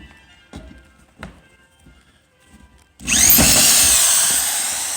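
Self-tapping sheetrock screw driven by a screw gun into a steel metal stud: a loud, sustained whirring drive kicks in after a few seconds of quiet with a couple of soft taps, running steadily to the end.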